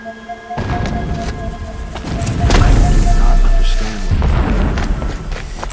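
Heavy blasting explosions rumble through a Horizon Zero Dawn game scene, a sustained loud low boom swelling in the middle, with mechanical clanks and thuds scattered around it.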